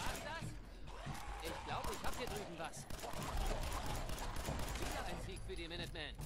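Gunfire from the video game Fallout 4, a string of sharp shots running through the clip over steady game ambience, with a voice talking over it.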